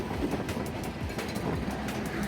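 Steady rumble of a Joydebpur commuter train rolling along the tracks with rhythmic clattering as it arrives at Banani station near Dhaka, heard from on board, continuous and moderately loud.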